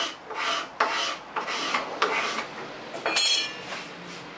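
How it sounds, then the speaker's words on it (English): Hard scraper dragged over a wooden board in short, rough strokes, close and crisp, several irregular passes with brief pauses. "Hard scraper."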